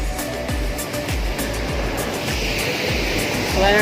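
Water rushes at the Rengali Dam waterfall in a loud, continuous roar, with a series of regular low thumps pulsing beneath it.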